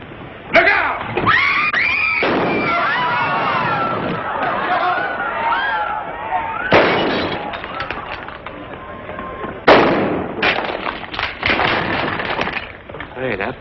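Gunfire in a 1940 Republic Pictures western film: loud sharp shots ring out amid shouting, screaming and crowd commotion, with urgent voices and running throughout.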